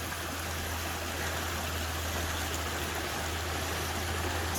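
Creek water runs steadily over big rocks in a briar-choked mountainside stream on an off-grid homestead, a continuous close, even rushing wash with no pauses and a low hum beneath.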